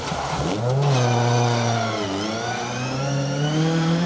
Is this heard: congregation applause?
no